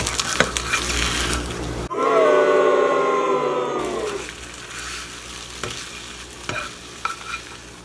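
Liquid egg whites pour into a frying pan and hit it with a sudden loud sizzle that steadily fades over a couple of seconds, with quieter kitchen clatter around it.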